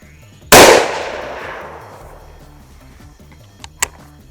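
A single loud gunshot from a handloaded cartridge fired alone, its sharp crack decaying over about a second and a half, then a couple of faint clicks.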